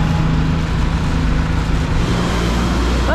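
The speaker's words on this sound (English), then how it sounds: "Oh, there goes the bus." A bus passes on a town street in Pontypridd, a steady loud engine rumble and road noise that fills the whole moment, with no talk over it.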